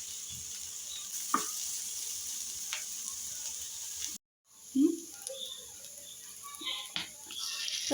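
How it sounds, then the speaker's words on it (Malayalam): Soft, steady sizzling of capsicum sautéing in a pan for egg manchurian, with a brief gap and a few stirring scrapes and clinks. "ക്യാപ്സിക്കം കൂടി ഇട്ടിട്ട് നമുക്കിതൊന്ന് വഴറ്റിയെടുക്കാം"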